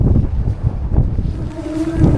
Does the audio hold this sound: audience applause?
no